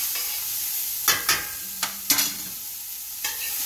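Onions frying in a pan over medium heat while being stirred, with a soft steady sizzle under several short clinks and scrapes of a spoon against the pan.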